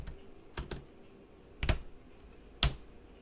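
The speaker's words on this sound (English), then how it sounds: "then I'm going to type the username" A few sparse keystrokes on a computer keyboard while entering a Linux command, sharp isolated clicks with pauses between them in a quiet room.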